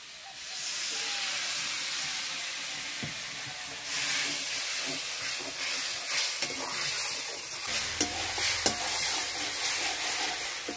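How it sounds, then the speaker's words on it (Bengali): Spice powders with coriander and salt hiss and sizzle steadily in a pan after a splash of water goes in, with scattered stirring scrapes and a louder burst of crackle near the end. "মশলাগুলোকে ভালোভাবে কষানোর জন্য সামান্য পরিমাণে একটু জল দেব।"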